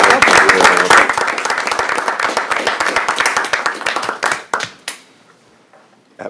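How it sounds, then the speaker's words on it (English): Round of applause from the audience at a city council meeting, dense clapping for about four seconds that thins out into a few scattered claps and then fades to near silence. "give her a round of applause for that night."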